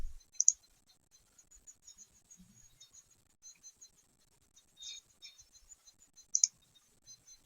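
A computer mouse clicks sparsely during ICU charting, quiet single clicks and short pairs scattered at uneven intervals, close by, with no talking.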